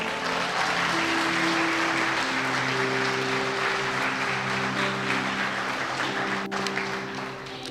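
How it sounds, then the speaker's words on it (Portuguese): Church congregation applauding during a sermon, sustained clapping with held sustained organ or keyboard tones beneath, fairly loud and fading slightly toward the end. "Dê um aplauso ao Senhor."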